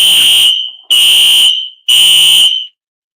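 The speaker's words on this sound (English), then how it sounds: "Looks like we have an alarm going." A fire alarm sounds in three loud, piercing electronic beeps, each about half a second long with short silent gaps between, ending in silence.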